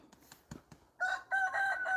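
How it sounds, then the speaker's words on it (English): A rooster crows at a moderate distance, a drawn-out, wavering call following a few soft clucks and rustles. "It's a rooster."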